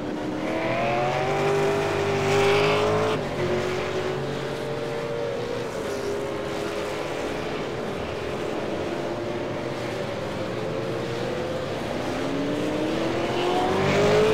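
V8 Supercars engines at the Phillip Island circuit, a steady loud roar with pitch rising and falling as cars shift and pass, continuous throughout with no talking.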